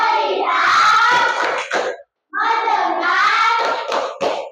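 A fourth-grade class claps in unison in a rhythmic focus clap, bursts of hand claps mixed with children's chanting voices, loud and close, with a short pause between two phrases.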